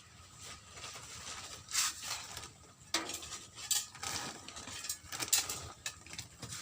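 Potting soil mixed with chopped coconut husk gives quiet, irregular scraping and gritty clinks, several sharper knocks scattered through a soft shuffling bed.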